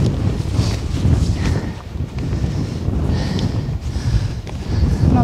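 Strong wind gusts buffet the microphone on a mountain ridge in the Lake District during rain, a steady loud rumble with a few faint sounds of movement and a voice speaking.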